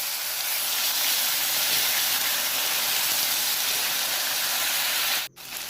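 Brinjal pieces with spices hiss and sizzle loudly and steadily in a hot pan for a quick brinjal-tomato curry, a constant close roar that cuts off abruptly near the end.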